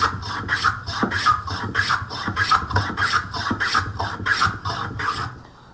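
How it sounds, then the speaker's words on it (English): A hand plane with a brass dial pushes along a wood blank in quick, regular rasping strokes, about two per second, close and moderately loud, a dry scraping rhythm with no talk. "Nice smooth planing action."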